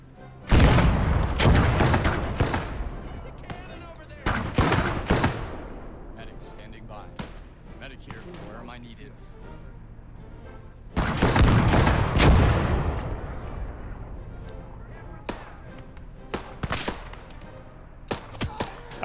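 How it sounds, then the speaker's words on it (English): Heavy artillery fire in a World War II-style hedgerow combat video game, with repeated loud booms and bursts of gunfire that rumble and trail off, coming in clusters with quieter gaps between. "did they have super artillery in the distance?"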